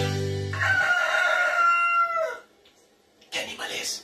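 A rooster crows loudly and close by in one long drawn-out call that trails off, followed by a brief pause and then a second burst of sound.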